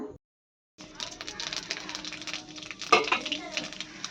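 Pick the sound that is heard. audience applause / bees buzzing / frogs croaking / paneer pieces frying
paneer pieces frying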